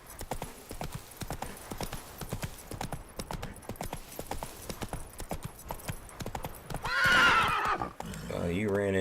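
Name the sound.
horse galloping and neighing in the video game The Witcher 3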